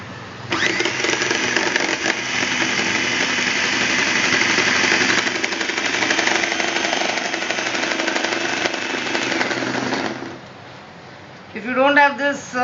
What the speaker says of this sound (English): Now what I do is I will just beat this egg first.